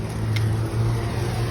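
A car passing close by on a roadside, a steady engine drone and tire rumble filling the brief moment without any talk.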